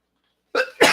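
A single sneeze during a live online show breaks a moment of silence: a short sharp intake-and-burst followed by a louder, breathy explosive release, close to the microphone.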